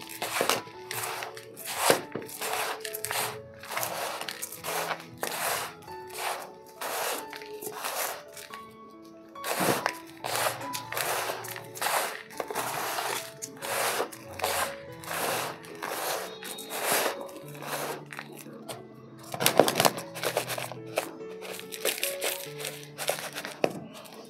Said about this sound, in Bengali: এইবার আমাদের এটা কিন্তু ভালো মতো মিশিয়ে নিতে হবে।